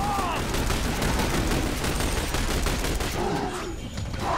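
Sustained gunfire from a squad firefight in The Bureau video game, dense overlapping shots rattling continuously at close range, with faint voices talking in the background.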